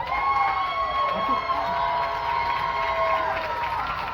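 A stadium crowd at General Foley Stadium in downtown Worcester, at a Worcester Wildcats versus Southern Vermont Storm football game, cheers and whoops in a sustained mass roar, with scattered shouts rising over it.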